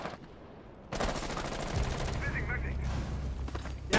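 Rapid bursts of automatic gunfire in a shooter video game, loud and dense, starting abruptly after a quiet second and continuing as overlapping rattling volleys, with no voices.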